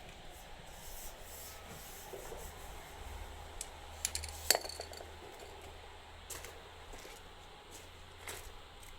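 Sandpaper rubbed by hand over a Renault Kangoo wheel during a refinish, a soft, continuous scratchy scrubbing close by with a few sharper scrapes in the middle.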